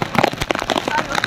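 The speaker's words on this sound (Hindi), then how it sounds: "ठंडी ठंडी हवा चल रही है और बारिश हो रही है" Rain falls outdoors in a village in Azamgarh, Uttar Pradesh, a loud, continuous close patter of drops with a cool breeze, filling the whole moment.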